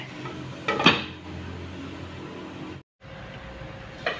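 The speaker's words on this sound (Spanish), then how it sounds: "Ya la tenemos en la estufa y la vamos a tapar hasta que la lenteja esté lista para guisar" A metal lid clanks down onto a pot of lentils on the stove, one sharp close knock with a brief rattle, then a faint second clink near the end amid quiet kitchen hum.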